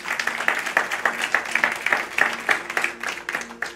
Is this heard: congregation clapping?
yes